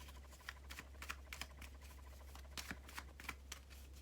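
Tarot cards shuffled by hand in a monthly reading, a run of soft, papery riffling bursts with brief pauses, close and fairly quiet over a steady low hum.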